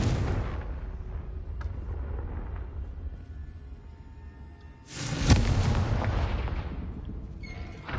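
A Confringo spell blast in Hogwarts Legacy, heard as a heavy booming explosion that erupts midway over a rumbling game background and then trails off in a long decaying roar.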